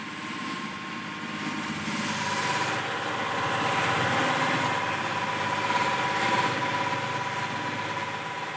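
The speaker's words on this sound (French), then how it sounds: "Le bruit assourdissant du moteur casse les têtes." A loud, droning engine roars steadily inside a crowded migrant transport, rising slightly in intensity midway and continuing without break, with no voices.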